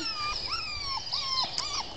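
Pit bull puppies whimper and squeal in a run of high, wavering cries, close up and fairly loud with no talking.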